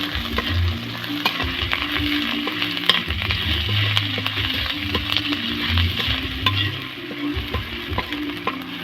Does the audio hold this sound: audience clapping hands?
no